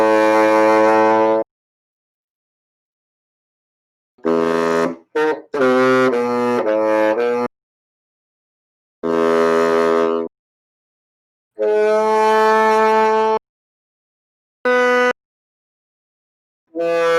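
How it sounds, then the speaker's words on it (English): Bassoon playing a short melody in phrases separated by silences, with sustained reedy tones and a quick run of notes in the middle, heard alone and fairly loud. "let's try and listen to a short little melody on the bassoon"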